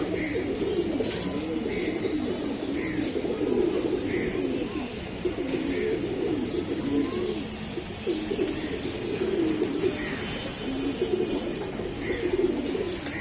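Several pigeons at a loft coo close by in soft, rolling low calls that overlap continuously, with faint chirps now and then.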